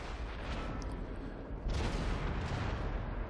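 Cover around a Challenger tank is shot away on the Erlenburg map in a tank video game, a dense, continuous roar of gunfire and blasts that grows heavier halfway through.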